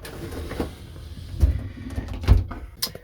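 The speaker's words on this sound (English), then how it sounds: "Let's just close the door." A small caravan shower door is pulled shut, with a few soft knocks and thuds at close range as it settles into its frame.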